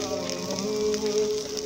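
Slit green chillies sizzling in a frying spice paste of garlic for a fish curry, a steady crackling hiss throughout without talk.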